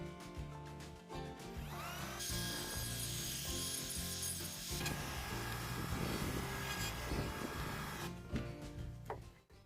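A blunt chisel scrapes and rasps continuously through wood while cutting a recess for a door hinge, close up and alone with no talk.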